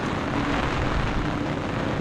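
Rain falling in a steady, dense wash during the rainy season, continuous and fairly loud with no breaks, with no talking.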